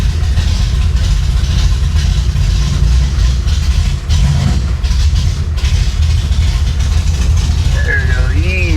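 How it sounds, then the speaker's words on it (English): A flood-damaged Chevrolet Impala built up to 560 hp runs with a steady, loud low exhaust rumble and idle throughout, with a voice speaking briefly near the end. "Heard that exhaust hit."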